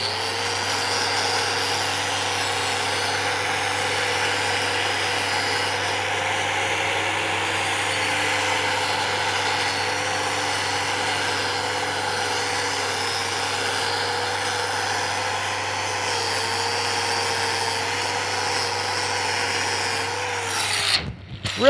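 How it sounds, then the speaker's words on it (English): A wire wheel scrubs thin slag off a 3-inch heavy-wall pipe weld before the cap pass, a steady loud abrasive whir that runs unbroken for about twenty seconds before stopping abruptly. "So now I'll go ahead and hit this with my wire wheel right before my cap pass."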